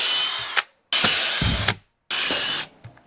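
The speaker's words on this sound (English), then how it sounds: "the instructions did say to use a 8mm drill bit" A power drill bores a hole with an 8mm bit while fitting side skirts to an Audi A3/S3, three loud whirring bursts separated by brief pauses, each ending with a small clunk.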